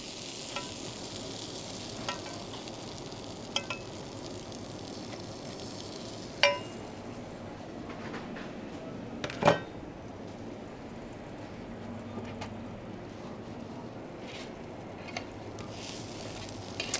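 Flatbreads fry in a pan, giving a soft, steady sizzle with a few faint clicks and taps scattered over it.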